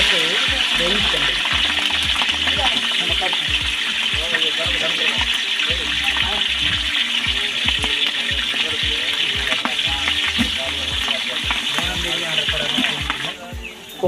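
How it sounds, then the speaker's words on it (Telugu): Onions, green chillies and whole garam masala frying in oil for a large village-style mutton curry, a steady loud sizzle with watery hiss throughout, without any speech. "అలాగే పచ్చిమిర్చి, ఉల్లిపాయలు వేసి గోల్డెన్ కలర్ వచ్చే వరకు వేయించుకోండి"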